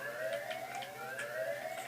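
A wailing alarm siren inside the Hitman 2 video game, rising in steady repeated sweeps, loud and continuous for the whole short stretch with no talking.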